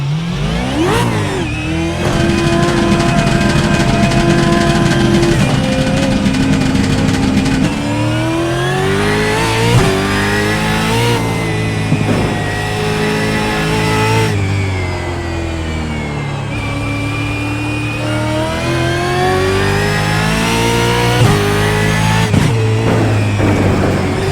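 A V8 Supercar in the iRacing sim at Sonoma roars steadily under acceleration, loud and close, with the engine pitch climbing through gears and dipping at each shift for over twenty seconds, no talk.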